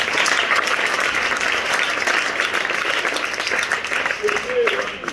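Church congregation applauding during a French-language blessing prayer, a dense, continuous round of clapping from a large gathering, with a voice speaking over it.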